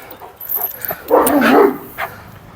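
A large dog gives a few close barks, with a deeper bark in the middle of a short stretch of quieter yips and noise.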